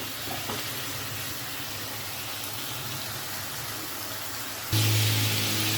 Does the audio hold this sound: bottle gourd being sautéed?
yes